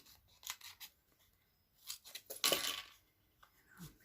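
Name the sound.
scissors cutting card-making pieces in half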